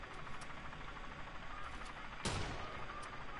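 A sniper rifle shot in Watch Dogs 2 gives one sharp, loud crack with a short decaying tail, rising from a low, steady game-ambience background.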